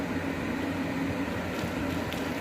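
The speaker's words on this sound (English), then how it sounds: "It's really hot in here, so I'm running a fan." Steady broadband whoosh of an electric fan running in a hot room, close and constant with a faint low hum, no voices.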